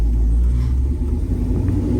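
A 1999–2006 GM truck drives along, its engine giving a steady low rumble from inside the cab, with no talk over it.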